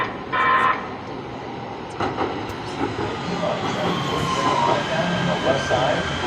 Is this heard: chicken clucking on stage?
no